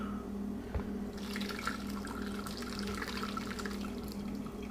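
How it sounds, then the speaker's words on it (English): Liquid whey from homemade ricotta trickles and splashes through a large strainer, a soft, continuous watery patter close by with a few drips over a low hum. "continue to strain this through the large strainer"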